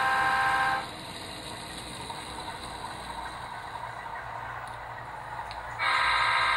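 A northbound train on a line out of Utica, its horn sounding loud and close at the start and again at the end, with a steady rumble of rolling wheels between the blasts.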